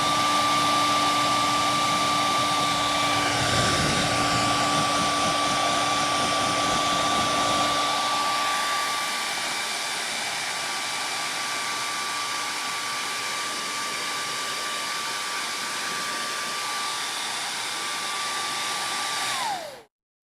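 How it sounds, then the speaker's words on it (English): A hair dryer blows steadily with a constant whirring hum, close and loud, for a long stretch before switching off abruptly at the end. "We're going to hit her one more time with the hair dryer just to set those spots."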